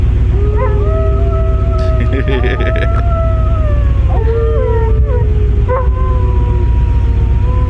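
Someone howls like a wolf at the full moon in long, wavering, rising and falling tones. The howl is loud and close and continues through the clip over a dense, noisy background.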